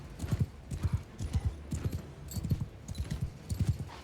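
Horses in Mount & Blade II Bannerlord gallop in a steady, rhythmic clip-clop of hooves, repeating thuds at a brisk pace, moderately loud with no talk over them.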